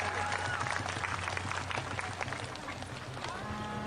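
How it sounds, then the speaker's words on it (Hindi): An audience at a religious katha gathering claps to welcome a guest, dense continuous applause from a crowd, fairly loud and sustained, with a faint musical tone underneath. "मैं चाहता हूं कि सभी लोगों ने जोरदार ताली बजाकर उनको स्वागत करें।"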